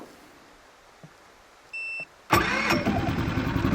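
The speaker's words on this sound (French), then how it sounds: "Essayons maintenant le démarrage électrique." An EcoFlow Smart Generator is started electrically: a faint click, a short electronic beep, then the engine cranks and catches, settling into a loud, steady running drone, with no one talking.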